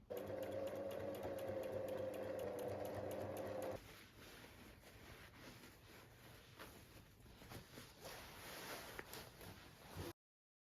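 A sewing machine runs steadily while stitching a dress lining, loud and continuous for several seconds before dropping to a lighter, quieter stitching hum until the end.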